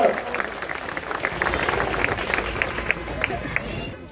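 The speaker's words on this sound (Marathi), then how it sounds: "महाराज साहेबांच्या स्वागतासाठी जोरात टाळ्या वाजवूयात" A crowd at a public ceremony claps loudly to welcome Maharaj Saheb, sustained close applause with sharp individual claps standing out, fading toward the end.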